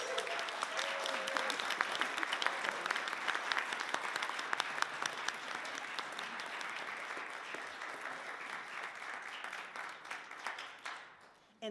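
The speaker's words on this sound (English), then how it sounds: "Can we have a round of applause for today's actor?" Warm applause from a congregation in a Unitarian Universalist service, steady clapping from many hands that carries on for about ten seconds before tapering off quickly.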